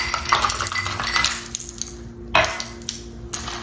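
Ice cubes tumble into a glass of cookie butter iced coffee, giving a few close clinks and rattles, with one sharper knock near the end and no talking.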